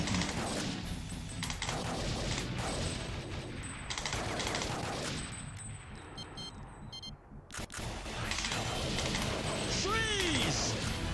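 Rapid bursts of light-gun gunfire from the arcade shooter Time Crisis II, loud and dense with overlapping shots, impacts and game effects, and a voice talking over the action.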